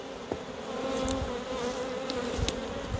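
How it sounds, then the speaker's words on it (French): Corsican honeybees buzz steadily at an opened beehive, a dense, close, continuous drone with individual bees flitting past and small knocks from the hive work. "Une abeille reine corse."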